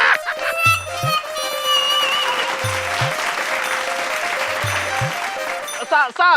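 Audience applause at a Bhojpuri comedy show, a continuous crowd clapping with a few low tonal musical stabs and a brief voice near the end.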